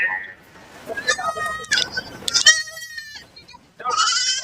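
Young goat kids bleating at a busy goat market in Kunnathur, several high, wavering cries close by with people talking in the background.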